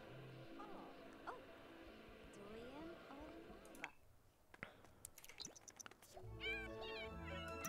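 Cat meowing loudly in The Sims 4 game, with chirpy meows standing out over game music and ambience, while a person talks over parts of it.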